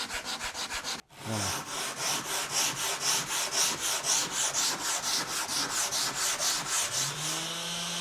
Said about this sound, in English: I used an 80 grit sandpaper, and even though I used my sander, my electric sander, you can totally do this by hand.